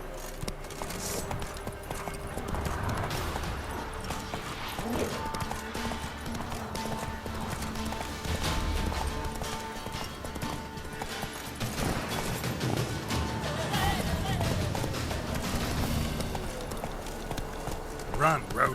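Hoofbeats from Roach the horse galloping in The Witcher 3, a steady, fairly quiet clip-clop that runs throughout with music and ambient game sound.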